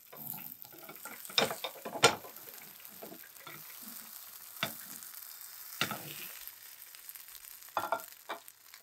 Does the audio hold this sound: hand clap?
no